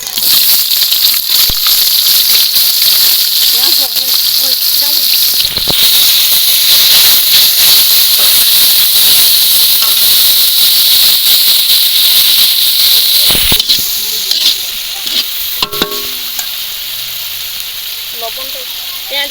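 Whole cumin, a few bay leaves and chopped onion sizzle in hot oil at an outdoor picnic cook-up, a loud, steady, close hiss that eases somewhat in the last few seconds.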